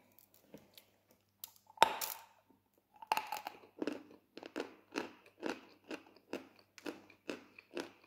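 A crunchy snack is bitten and chewed up close during a night-time bite at work, with sharp crunches that settle into a steady run of chews, no talking.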